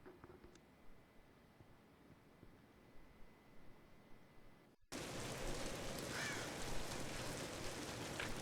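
Rain falls in the Tomb Raider video game as a faint, hushed patter, then suddenly cuts to a much louder, dense downpour hiss partway through.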